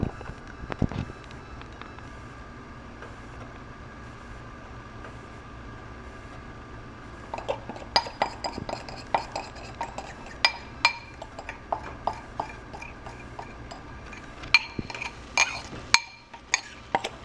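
Utensils clink and scrape in short irregular bursts against a bowl as sauce is mixed into a home-cooked dinner, the clatter picking up and growing busier in the second half over a low steady background hiss.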